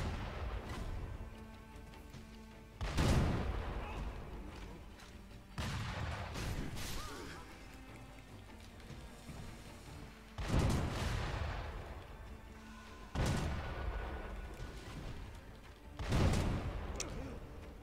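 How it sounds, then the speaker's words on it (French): Heavy booming blasts of cannons in the video game Sekiro: Shadows Die Twice go off one at a time every few seconds, each followed by a rumbling decay. "Hop, il y a deux canons."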